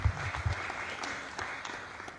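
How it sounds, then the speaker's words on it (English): Audience applause at a public launch event fills the clip as a continuous, moderately loud clatter of many hands, with no voices over it. "Another round of applause for the chairperson."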